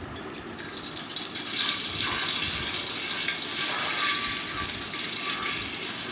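Cooking oil poured into a karahi for chicken karahi, a steady gushing liquid pour lasting several seconds, close and fairly loud with no talking.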